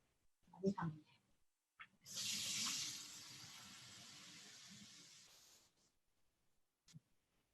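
Tap water gushes into a container in a home kitchen for rasam, a steady broadband rush lasting about three and a half seconds, preceded by brief clatter and a short murmur of voices, then falling quiet with a small clink.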